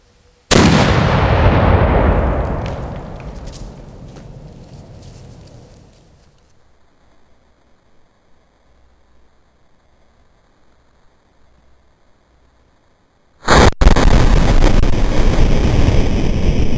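A cannon fires homemade PVC pipe canister ammunition with a plywood bow and canvas wad: one loud, sharp outdoor blast rolls into a long fading rumble, followed by near silence and then a sudden burst of heavy rushing noise.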